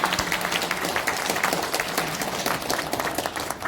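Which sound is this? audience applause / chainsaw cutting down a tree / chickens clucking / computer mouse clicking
audience applause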